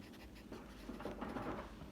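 A word written by hand during a lesson on naming the parts of a muscle sarcomere; soft, continuous scratchy strokes for about two seconds, close and fairly quiet.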